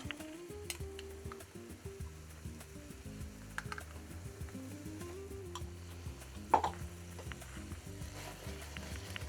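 Tomato paste frying with vegetables in a pan for baked courgette caviar, a quiet low sizzle with soft stirring and one sharper utensil knock, under a faint background hum.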